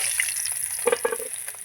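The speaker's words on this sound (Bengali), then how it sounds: "ট্যাংরা মাছ কিন্তু প্রচণ্ড ফাটে এই জন্য ভেজে আমি কিন্তু ঢেকে ঢেকে ভেজে নিচ্ছি" Tengra fish frying in oil in a home kitchen, crackling and spluttering in a short burst of sharp pops over a steady sizzling hiss.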